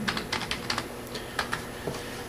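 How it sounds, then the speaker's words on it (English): Fingers tap out an application name on a computer keyboard in short clustered bursts of crisp clicks with brief pauses, close and moderately loud over faint background hum. "you simply type the name of the application"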